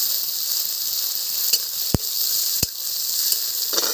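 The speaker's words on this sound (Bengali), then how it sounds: "পেঁয়াজটা ভাজা হয়ে গেছে" Chopped onion sizzles in a pan, a steady close hiss of frying with a couple of sharp utensil clicks against the cookware, no talking.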